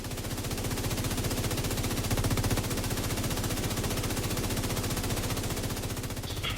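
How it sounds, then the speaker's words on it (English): A continuous, rapid machine gun rattle loops without pause as a persistent audio glitch in The Division 2 video game, loud and steady, with no talking over it. "There was a permanent machine gun noise that happened, halfway through one of my playthroughs."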